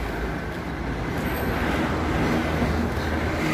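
Broadband rumble of a truck hauling a full load of hay to a farm in Ukraine, a steady engine and road noise held at an even loudness throughout, with no talk over it.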